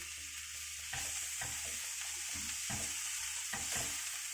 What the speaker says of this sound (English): now we're going to fry it more